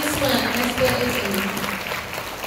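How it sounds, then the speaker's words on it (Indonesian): Audience at a school parenting seminar giving steady, dense applause after a talk, loud and continuous through the whole moment, with a low voice faintly underneath. "Tepuk tangan yang meriah sekali lagi untuk pembicaraan hari ini"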